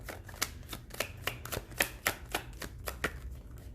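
Quick crisp riffling snaps of tarot cards being shuffled, about a dozen sharp bursts in an uneven rhythm over a low steady hum, close and fairly quiet.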